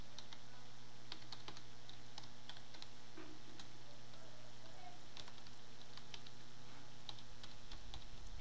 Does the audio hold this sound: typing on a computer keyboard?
yes